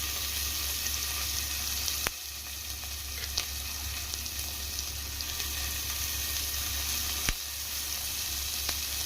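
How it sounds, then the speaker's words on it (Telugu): Sliced onions for hotel-style veg kurma fry in a pan with a constant, even sizzle throughout, broken by a few sharp clicks and the occasional stirring tap. No one speaks. "ఆనియన్స్ మాకు తొందరగా ఫ్రై అవుతాయి."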